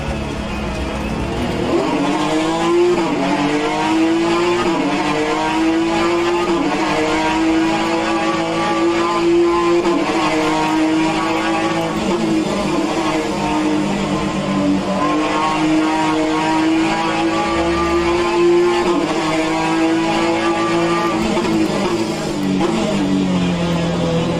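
Alfa Romeo race cars in an SRO World Challenge round at Mont-Tremblant, a loud continuous engine drone that climbs and dips with gear changes and throttle, close and sustained.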